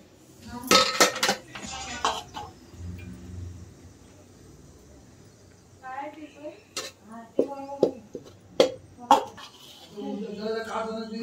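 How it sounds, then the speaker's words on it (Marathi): A steel bowl knocking and scraping against a vessel while hot rice-flour dough is kneaded for ukdiche modak, irregular metallic clinks near and clear, with someone talking between them. "त्याच्यासाठी मी वाटी घेतली आणि वाटीनं आपलं मळून घेऊया"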